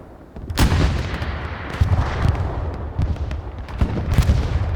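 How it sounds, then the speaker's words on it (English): Tiger tank cannon fire in the winter setting of the Hell Let Loose World War II game, heard as several loud, booming blasts spread across a few seconds over a constant rumble of battle noise. "That Tiger is shooting."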